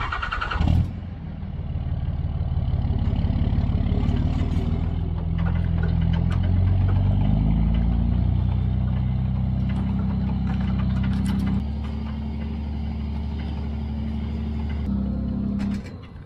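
A vehicle engine towing a sawmill home starts with a brief burst, then runs steady and close, its note rising and falling with the throttle before it settles to a lower idle toward the end.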